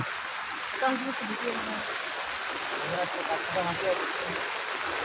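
Floodwater in a river swollen by heavy rain, a broad continuous rushing roar outdoors, with people talking over it throughout.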